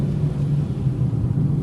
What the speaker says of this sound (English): There's lots of road noise, and you certainly can hear the engine revving